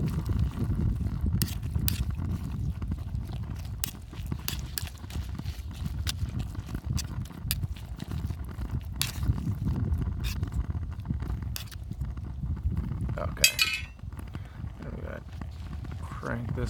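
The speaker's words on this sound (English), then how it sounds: "we're just going to mix this top layer a little bit" Beans and rice being stirred in a pot on a trail cooking setup, with repeated scraping and knocking clicks of a utensil against the pot over a low rumble of burner or wind, while a person talks.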